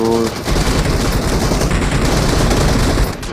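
Dense rapid-fire gunshots from a video game, a continuous loud burst of automatic fire lasting about three seconds before cutting off abruptly.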